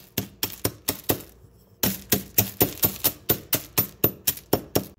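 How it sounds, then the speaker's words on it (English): Smarties candies are crushed in a plastic zip bag with about a dozen and a half sharp, loud, evenly spaced cracking strikes close by, broken by one short pause. "I'll place Smarties into a plastic bag, Ziploc and something similar, and you want to sort of crush it."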